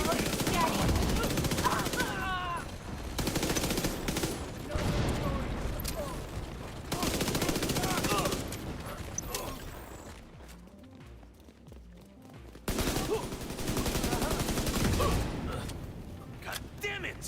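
Sustained automatic gunfire rattles through a PvE fight in The Division, loud bursts repeating in long stretches with a brief quieter lull in between, under steady game ambience.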